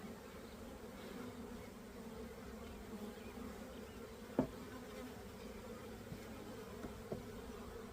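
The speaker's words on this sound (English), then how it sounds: "Lots and lots of bees." A swarm of honey bees hums around an open hive in a steady, soft, continuous drone, close by with a few brief nearer buzzes and no talking.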